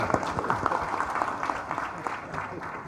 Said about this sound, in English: Please, a round of applause for this lady.